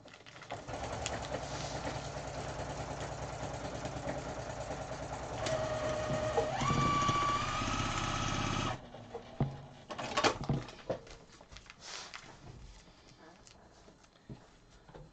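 Sewing machine stitching quilt blocks with a steady mechanical whirr for several seconds, then stopping, followed by faint rustling and handling noises.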